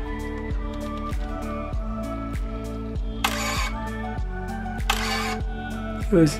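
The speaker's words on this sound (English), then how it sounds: "you will hear the fast shutter goes to F11" A Pentax SF10 film camera shutter firing at fast speed in a series of rapid mechanical clicks, close and crisp, with a short whirring burst partway through and no speech.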